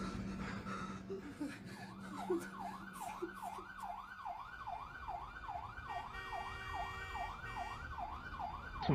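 An ambulance siren wails in a fast, repeating up-and-down yelp, fairly faint and distant, after a few scattered clunks and a low hum at the start.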